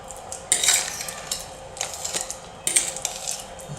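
A utensil clinks against a bowl while bananas are mashed and mixed into cake batter, giving sharp scraping taps and a few louder knocks over soft wet stirring, close up and moderately quiet.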